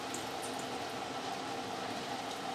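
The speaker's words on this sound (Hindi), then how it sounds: "पानी उतार लेंगे राइस का।" Water for chicken biryani rice rushing and bubbling steadily as it is drained off, a continuous close, even wash of liquid with no talk.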